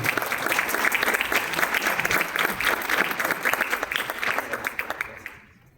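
Audience applause at an academic panel on Mexican education policy, a dense, sustained clapping that stays steady and fairly loud before tapering off and fading out near the end.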